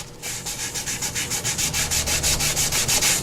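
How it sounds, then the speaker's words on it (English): A paper towel rubs quickly back and forth over paper to wipe off excess glue, giving a steady rhythmic run of close, dry scrubbing strokes, about five per second. "Let me grab a paper towel. I've got my towel here. I'm just going to wipe that really quick. Not a big deal. Just rub it."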